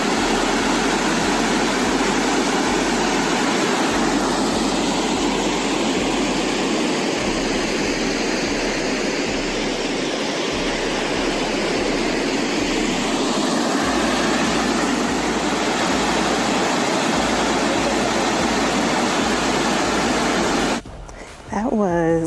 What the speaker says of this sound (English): That river is called the Virgin River.